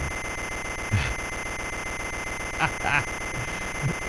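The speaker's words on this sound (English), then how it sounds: "One noisy morning. Turn off the alarm clock." Alarm clock ringing in the Game Boy game Wario Land, a harsh continuous buzzing drone with a steady tone, loud and close, with a few short vocal bursts over it.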